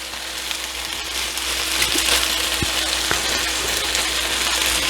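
Beef pieces for pepper steak fry in a hot pan, browning in batches, with a steady broadband sizzle throughout, a few brief clicks and pops, and the hiss growing slightly louder midway; no talk.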